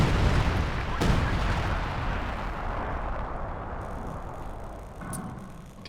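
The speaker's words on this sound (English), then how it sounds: "base howitzer fire onto the exit as well" Howitzer artillery shells land in a Company of Heroes 2 match. Heavy, rumbling blasts roll on continuously, with a sharp impact near the start and another near the end, all fairly loud and distant-sounding.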